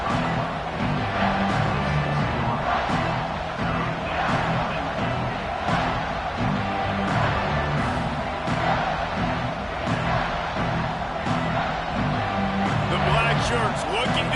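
A football stadium crowd roars and cheers on a big third down, a continuous loud wall of noise with a commentator talking over it.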